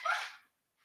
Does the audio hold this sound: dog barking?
yes